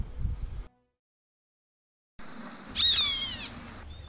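A roadside hawk, a raptor found across the Americas, gives one sharp, descending high-pitched scream after a brief gap of silence, close and clear over faint rustling background.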